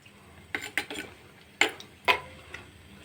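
A ladle stirring small fish curry in a pot, a few scattered scrapes and clinks against the metal, spaced unevenly and fairly close, with no talking.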